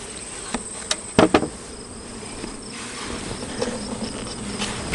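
Honey bees buzz steadily inside an opened beehive during a honey harvest, with a soft continuous hum broken by a few sharp knocks and clicks from handling the hive.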